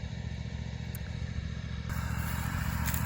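A lawnmower runs steadily while cutting a grazed pasture, giving a close, constant engine drone with a rough low rumble that gets slightly louder partway through, and no talking.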